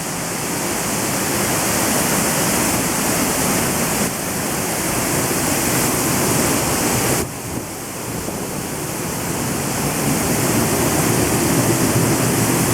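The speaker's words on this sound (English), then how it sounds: "If I turn this way, we're under the waterfall." Standing behind Middle North Falls in Silver Falls, Oregon, a loud, steady, broadband roar of falling water fills the space without pause, close and enveloping.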